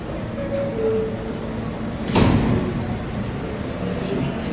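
New York City subway train doors closing on a winter day, heard as a single brief thud in the middle of a steady rumbling station hum, with no other clear events around it.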